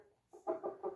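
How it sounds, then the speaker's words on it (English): Pleased rooster clucking softly while being fed sesame seeds, a short run of three or four quick, close clucks rising out of near silence. "Oh, you hear all those clucks?"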